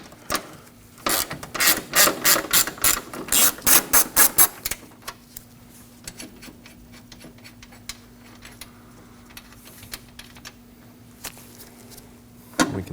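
A hand ratchet with a 10mm socket loosening bracket bolts on a Ford F-150 during brake master cylinder work: a burst of rapid clicking strokes in the first five seconds, then faint scattered metallic handling noises over a low hum.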